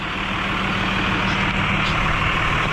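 A turbocharged 12-valve truck engine idles steadily and loudly, a continuous heavy low rumble with a constant broadband roar and no pauses or voices.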